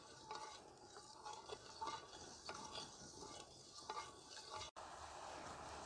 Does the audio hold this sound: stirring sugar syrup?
yes